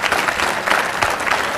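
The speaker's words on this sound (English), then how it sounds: "I'm glad that was applause-worthy." A lecture audience claps steadily, a dense, loud wash of hands with no pauses across the whole short stretch.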